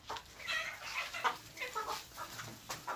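Local desi chickens on a farm cluck and chatter in a low, continuous flock murmur of overlapping soft calls, fairly faint and steady throughout, with no speech over it.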